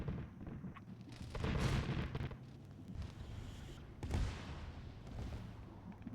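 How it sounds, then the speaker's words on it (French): Anti-aircraft guns fire in a combat video game during an air battle, a fairly quiet stretch of booming shots and rumbling bursts under faint game ambience. "Ça tire sec."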